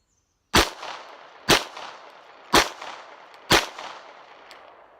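Four sharp handgun shots are fired at an even pace about a second apart during a slow, precision-focused shooting drill. Each crack is loud and close, with a brief echoing decay.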